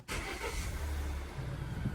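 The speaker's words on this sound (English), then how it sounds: "Start the car." A 2019 Volvo XC60 engine starts with a sudden ignition burst, then settles into a steady low idle hum close by.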